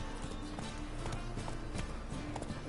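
Roach, a horse in the video game The Witcher 3, gallops with a quick, steady clip-clop of hoofbeats over a constant layer of game ambience, close and moderately loud.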